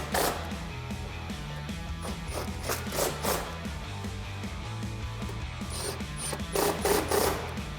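A tool drives bolts on Roush fender flares fitted to a 2015-2017 Ford F-150, with repeated rapid clicking bursts and mechanical whirring up close, no voices.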